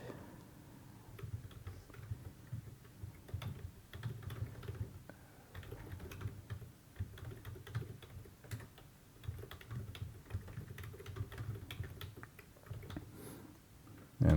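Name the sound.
typing on a computer keyboard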